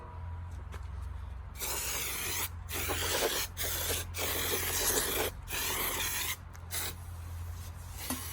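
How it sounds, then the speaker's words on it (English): Brake cleaner hisses from an aerosol can in long bursts with short pauses as it sprays oil residue off a ride-on mower rotor, close and with no talk. "I'm using brake cleaner to remove all the remainings of"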